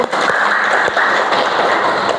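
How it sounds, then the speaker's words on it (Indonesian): Applause for a student named Bayu in a class session, a dense, continuous wash of clapping that stays loud and steady throughout. "Tepuk tangan untuk Bayu."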